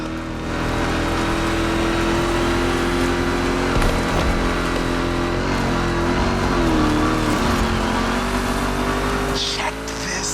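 A rally raid prepped Mustang GT in The Crew Motorfest runs with a loud, sustained engine drone that rises and dips through gear changes, with a voice talking over it at times.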